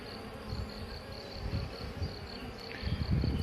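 Honeybees buzz around an open brood frame in a hive, a steady dense hum with a high whine running throughout, close and continuous with no voices.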